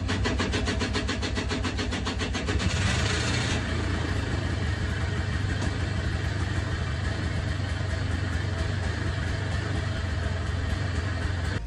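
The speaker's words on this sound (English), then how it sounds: "The ATV started right up." ATV engine cranking with rapid rhythmic pulses, then catching and settling into a steady, close, loud idle in cold Maine weather, with no one talking.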